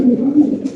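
A pigeon at a pigeon farm gives a short, low, throaty coo up close, lasting under a second.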